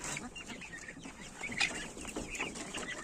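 Legbar laying hens cluck softly in a four-metre cage, a few close, irregular clucks and murmurs over a quiet background.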